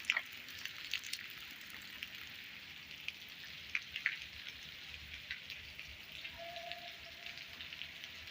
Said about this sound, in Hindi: बारिश बहुत ख़तरनाक बारिश हो रही है इस टाइम